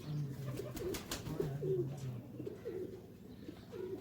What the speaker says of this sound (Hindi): वाह जी भाई ये 88 कबूतर है